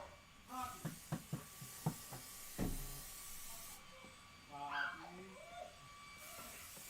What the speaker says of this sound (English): I don't know if you can hear that girly barking up there